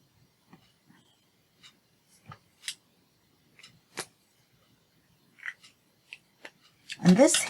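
Scissors trim a sliver off paper from a scalloped-edged vintage photo album page in a series of quiet, sparse snips, with a louder rustle of handling at the end.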